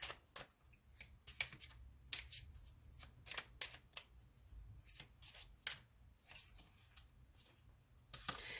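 Tarot cards being shuffled by hand during a love card reading, a quiet close-up run of crisp riffling bursts and flutters repeating irregularly over several seconds, with no talking.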